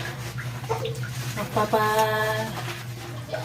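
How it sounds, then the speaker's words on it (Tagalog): Water running into a large bucket, a steady rushing stream under a constant low hum, with a brief tonal squeak partway through. "Pinupuno ko yung tubig ng, yung balde ba, na malaki."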